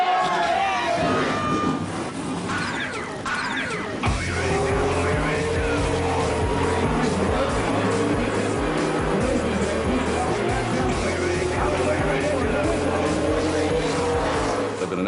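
Race cars start a track race with a loud, continuous roar of engines and a squeal of tires, and voices can be heard over it.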